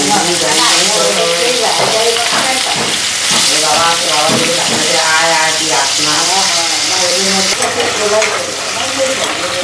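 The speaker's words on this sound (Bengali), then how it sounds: "তো এখন মাছগুলি ভেজে নিই।" Fish seasoned with turmeric fries in a pan, crackling and sizzling loudly and steadily while a person talks over it.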